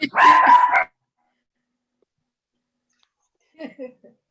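A pet dog at home interrupts a commission meeting with one loud, close burst of barking lasting under a second, followed by near silence and a few faint, brief sounds at the end.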